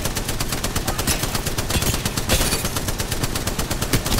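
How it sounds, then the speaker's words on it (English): Dense, loud automatic gunfire fills the whole stretch as someone shoots at the players in a video game, with rapid continuous bursts and no pauses. "Wait, who's shooting at us?"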